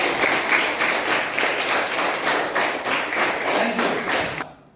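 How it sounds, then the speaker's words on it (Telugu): An audience of schoolchildren applauds after a student's song, a dense, loud burst of clapping in rhythmic waves that ends abruptly. "చప్పట్లు కొట్టండి ఒకసారి"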